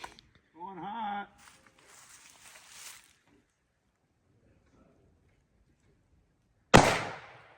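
A single loud rifle shot cracks close by at deer camp in Michigan while a scope is sighted in, its echo decaying quickly, after a stretch of brief voices, rustling and quiet.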